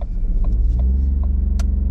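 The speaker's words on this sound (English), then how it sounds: "Lift the clutch to the bite and gas the car." A learner driver's manual car pulls away as the clutch is lifted and the engine is gassed, a steady low engine rumble with faint clicks above it, close and continuous.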